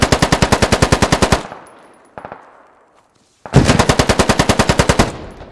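Automatic machine-gun fire in the military shooter game Squad: two loud, close bursts of rapid evenly spaced shots, about fifteen rounds each, separated by a quiet pause of roughly two seconds.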